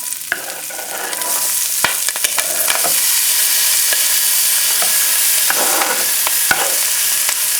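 Chicken cacciatore ingredients sizzle and fry steadily in a hot pan, a continuous loud crackle broken by sharp spatters and the scrape of stirring throughout.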